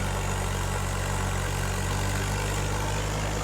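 A tractor engine idles on a farm, a steady low rumbling drone that holds evenly and loud close by, with no voices over it.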